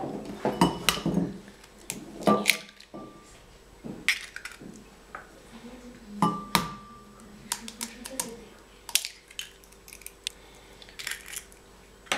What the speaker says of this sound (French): Les casser avant dans un bol, avant de les mettre dans le saladier